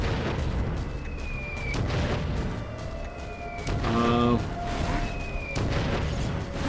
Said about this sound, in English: Wood bombs.